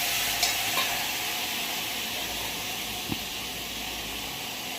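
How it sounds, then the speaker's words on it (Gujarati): Chopped tomatoes and chillies hiss in a kadhai of hot cumin tempering, giving a loud, continuous frying sizzle with a couple of small knocks from the pan. "જો વઘાર થઈ ગયો, અંદર ટોમેટો મરચાં સમારેલો નાખી દીધો."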